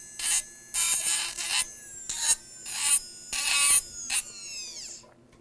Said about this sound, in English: the trimmer cuts very smooth and removes material very quickly.